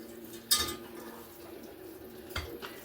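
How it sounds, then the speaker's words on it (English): A spoon scrapes and clinks twice in a dish as blanched broccoli and onions are stirred into a broccoli stuffed bake mixture, in an otherwise quiet kitchen. "Okay, and stir that all up"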